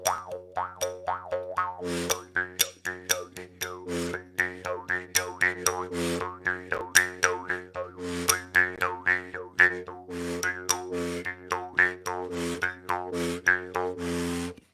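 Jaw harp played live in a higher-pitched tuning, twanging in a steady, rhythmic pattern of sharp plucked attacks over a sustained droning tone, close and alone with no talk.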